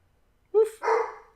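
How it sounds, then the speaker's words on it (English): Pet dog named Shaq barking indoors during a casual chat, two close, sharp barks in quick succession, the second longer and rougher, alone with no talk. "Would you quit barking, please?"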